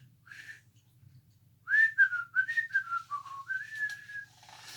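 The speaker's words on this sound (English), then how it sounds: "it began to whistle a walking tune" A person whistles a light, wandering melody, close by, after a brief opening note; a low steady hum runs underneath.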